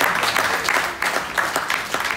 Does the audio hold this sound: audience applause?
yes